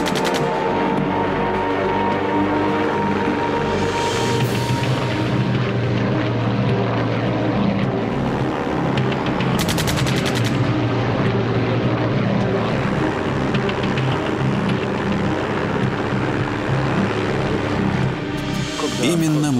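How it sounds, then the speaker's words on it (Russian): A World War I German fighter plane's propeller engine drones loudly and steadily as it attacks an Ilya Muromets bomber, forming a dense, continuous roar throughout. "Первый немецкий истребитель появился на 150 метрах выше Муромца и начал"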